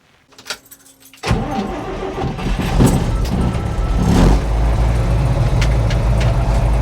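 A 1957 REO dump truck engine cranks and fires after a second of quiet clunks, then settles into a loud, close, rough steady idle with slight rises in revs.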